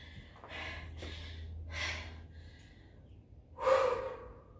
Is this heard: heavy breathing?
yes